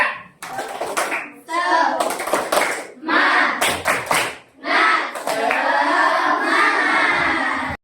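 A classroom of children performs a rhythmic clapping chant, the tepuk semangat, with bursts of patterned hand claps alternating with the class chanting together in a lively call-and-response.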